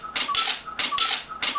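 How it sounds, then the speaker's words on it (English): Adhesive tape is pulled off its roll in three loud, rasping stretches, each lasting about half a second and separated by short pauses. "So let's get some more tape ready."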